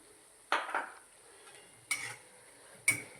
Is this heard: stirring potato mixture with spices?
yes